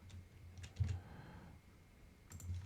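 Quiet typing on a computer keyboard during a Python web-crawling tutorial, a few soft scattered keystrokes over faint room noise.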